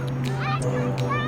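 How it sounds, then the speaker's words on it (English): Seagulls calling somewhere outdoors, a few short honking squawks scattered over a steady low hum, moderately close but fairly quiet, with no one speaking. "They're seagulls."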